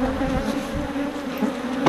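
Honeybees swarm around an open hive during an inspection, a loud, dense and steady buzzing close by with no voices.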